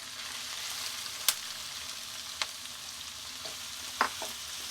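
Onion frying over lowered heat in a pan with ginger, garlic and green chili: a soft, steady sizzle with a few sharp clicks and taps of a utensil against the pan.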